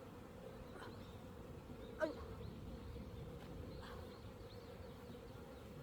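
Honeybees buzz at an open hive during a mite-density check, a continuous faint hum of many wings with a soft tap partway through.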